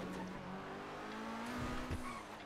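Lamborghini sports car drives off with a rising engine whine that climbs in pitch as it accelerates, steady and fairly close, with no one speaking over it.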